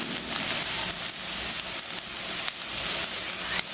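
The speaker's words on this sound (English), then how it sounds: "So just saute everything till the raw smell disappears" Shallots and ginger garlic paste sizzle and hiss as they are sautéed in a pan for a spicy Indian squid roast, a loud, steady frying sound with occasional stirring bumps.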